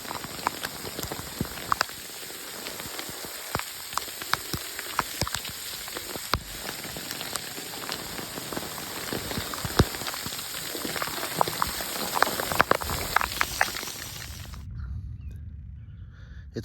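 Hail strikes the ground on a mountain trail with dense, sharp pattering and scattered louder ticks, close and steady, then it stops abruptly near the end.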